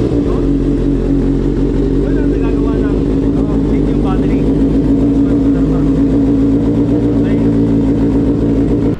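A 2024 Kawasaki ZX6R motorcycle engine, started after sitting six months, runs with a steady, loud low-pitched drone from start to finish and no clear revs, while a person talks over it.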